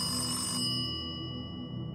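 A telephone rings with a steady electronic bell tone that sounds continuously and fairly quietly, used as a story sound effect for a late-night call, with no voices.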